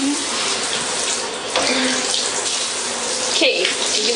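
Hot water runs steadily from a tap into a sink while someone washes their face to remove makeup, a continuous close splashing gush with faint shifts in the flow.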